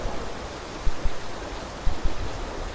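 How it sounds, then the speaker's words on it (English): Steady, dense hiss of rain falling on a cove and its sea waves, even and constant, with a few soft low thumps underneath. "But rain now everywhere, on everything, even on the waves."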